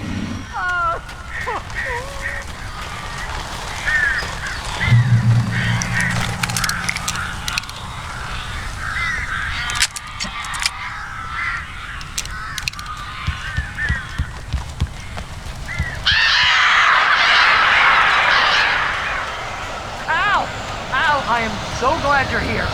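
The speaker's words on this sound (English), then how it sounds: "These birds are weird." Crows cawing in a cabin in Alan Wake. Harsh, scattered calls mix with game sound effects and a burst of loud flapping, while a voice talks over much of it.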